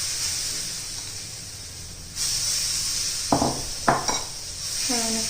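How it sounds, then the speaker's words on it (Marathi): Sweet corn chilla batter hits an oiled pan with a soft, steady sizzle, joined by a few brief clinks and scrapes of a utensil against the pan. "आता आपण हे बॅटर घालून घेऊया."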